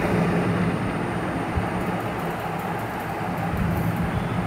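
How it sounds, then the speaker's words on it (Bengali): A train pulling in noisily and coming to a stop, heard as a steady, loud, broadband rumble and rolling clatter that carries through the whole stretch without voices. "ট্রেন সশব্দে এসে থেমে যায়।"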